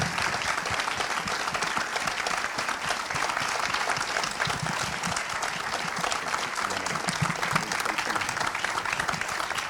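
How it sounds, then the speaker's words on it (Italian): A crowd gives sustained, vigorous applause to welcome Oleksandra Romanzova on stage, an even, dense clapping that carries on unbroken for nearly ten seconds. "Vi prego di accogliere con un grande applauso Oleksandra Romanzova."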